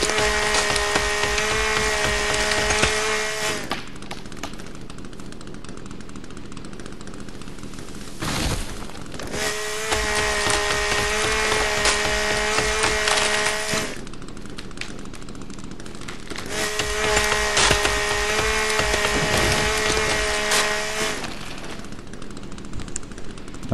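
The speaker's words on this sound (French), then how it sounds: "Ok, tronçonneuse." A chainsaw in The Forest video game on PS5 revs and cuts wood in three long, loud buzzing bursts with sharp tonal whine, separated by quieter gaps of rattling and clatter.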